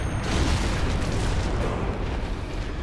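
Heavy cannon blast in the video game Bloodborne, a single broad booming burst that swells early and then decays into a sustained rumbling wash, loud and close with no talk over it.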